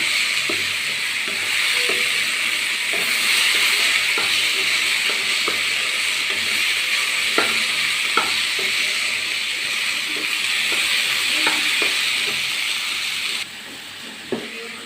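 Beef mixture with capsicum sizzling steadily in a hot pan in a home kitchen, a loud continuous hiss broken by scattered clicks and scrapes of a spoon stirring, with no talk.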